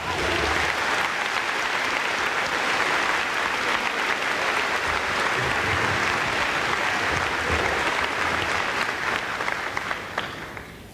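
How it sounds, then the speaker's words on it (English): Sustained applause from a high school graduation audience honoring faculty members, a dense steady roar of many hands clapping that fills the whole stretch and tapers slightly at the very end. "Please join me in a round of applause."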